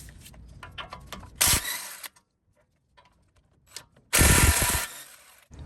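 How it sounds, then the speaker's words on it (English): A 3/8-inch DeWalt impact gun removes 17mm brake caliper bolts from a steering knuckle. It fires two loud, harsh hammering bursts, a short one and then a longer one, separated by quiet clicks and handling noises. "I'm going to use the same 3/8 DeWalt gun to remove those bolts."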